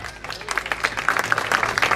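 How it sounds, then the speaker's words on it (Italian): Applause for Gianfranco Covello at the 1st Slalom di Cellara, a crowd clapping steadily and fairly close for a couple of seconds, with a few voices mixed in. "fate un applauso a Gianfranco Covello, il boss"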